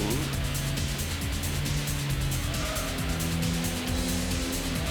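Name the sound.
race car engines in the video game Gran Turismo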